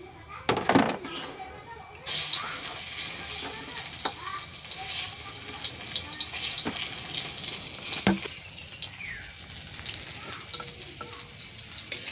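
Oil sizzles and crackles steadily in a hot wok with a few sharper pops, close up, while indistinct voices carry on in the background.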